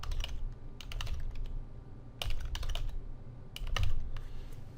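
Fingers typing a password on a computer keyboard, heard as close, quiet bursts of rapid key clicks separated by short pauses.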